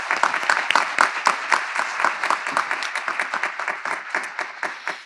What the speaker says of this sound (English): Please join me in a round of applause for those members of our community